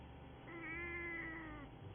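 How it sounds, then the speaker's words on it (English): A cat character in the video game Final Fantasy 14 gives one drawn-out, wavering meow, clear and fairly close over a low background hum. "You silly little cat."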